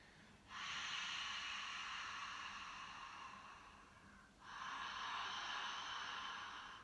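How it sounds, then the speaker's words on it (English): A slow yoga breathing exercise with an open-mouthed Ha sound: one long breathy exhale, then a matching inhale after a brief pause. Both are close and steady, with no talking. "make the sound of Ha as you exhale, and then the same as you inhale"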